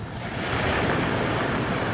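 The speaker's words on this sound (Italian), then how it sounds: "il mare è ancora un po' agitato" Rough sea surf breaking off the Sicilian coast on a sunny June day, a steady wash of waves mixed with wind buffeting the microphone, no voices.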